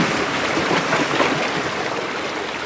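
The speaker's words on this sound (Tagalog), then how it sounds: "Medyo magalaw na ang dagat." Rough sea near Paga Island, Cagayan, on a rainy afternoon, heard as a constant, loud rushing wash of water and wind close by with no break and no voices.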